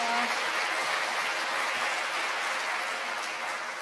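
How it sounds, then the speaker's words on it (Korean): A church congregation at a Christian university's anniversary thanksgiving worship service gives a missionary a big round of applause, a dense and steady wash of clapping that fades slightly toward the end. "큰 박수로 응원해 주세요"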